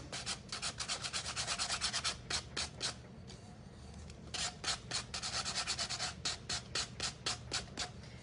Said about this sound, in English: right now, that baby's going to get sanded down